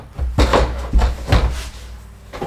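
A plastic storage cabinet door is popped into place, several sharp plastic knocks and clicks spaced in an uneven rhythm, close and fairly loud, with no speech.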